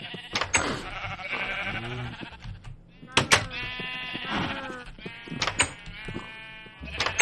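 Sheep in Minecraft bleat repeatedly in close, clear calls with short gaps between them, sounding like game sound effects.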